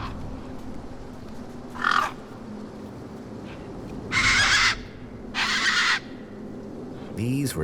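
Harsh caws from desert crows in the video game Beyond a Steel Sky, several bursts at moderate loudness over a steady ambient background, with a voice speaking lightly underneath.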